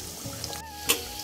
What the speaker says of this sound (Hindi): तो ये सरसों के तेल में पका रही हूँ मैं पकौड़े।